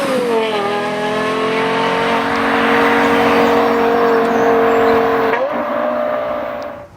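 A Lexus LFA supercar's engine and exhaust hold a loud, steady high-pitched rev up close, briefly dipping and climbing again near the end before fading out.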